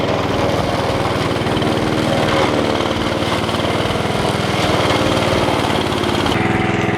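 A Firman FWM700-R robotic brush cutter, driven by a brushless electric motor, cuts through dense brush with a loud, steady mechanical whine and hum. The sound holds constant for about six seconds, then drops off sharply near the end.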